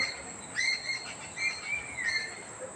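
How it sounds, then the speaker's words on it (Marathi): Birds calling in a Konkan village: several short, bright chirps and trills come in scattered bursts, fairly faint and a little distant, over a soft outdoor background with no talking. "पक्ष्यांचा आवाज येतो"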